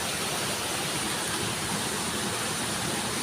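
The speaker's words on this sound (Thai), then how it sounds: "บริเวณน้ำตกน้ำโตนวัดตะงอยอันนี้" A waterfall at Wat Ta Ngoi in Tao Ngoi district pours in a dense, unbroken roar that holds evenly for the whole stretch.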